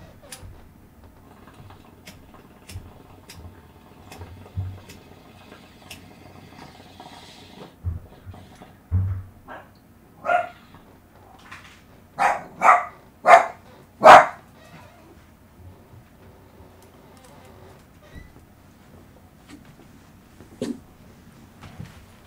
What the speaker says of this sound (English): You guys done barking?